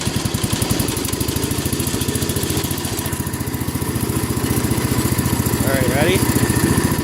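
A Wheel Horse Charger 12 garden tractor with a snow plow installed runs loud and close, its single-cylinder engine chugging in a steady rapid pulse that swells slightly as it is given more throttle, with no one speaking.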